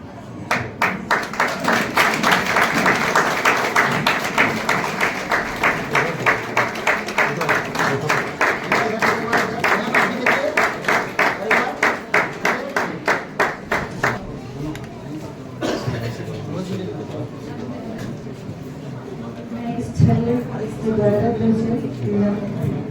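A crowd claps in rhythmic unison at a Christian wedding ceremony in India, with loud, steady beats for about twelve seconds before the applause fades into scattered noise and people talking.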